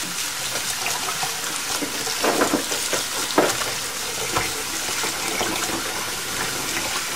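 Water swishing and splashing as rice is swirled and rinsed, a continuous wet churning with a few louder sloshes, no talking.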